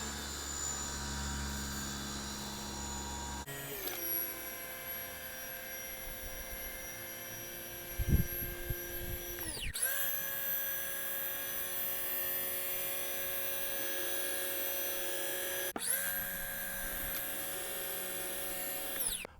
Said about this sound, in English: After we turn the power washer on, I'm just going to hold the trigger back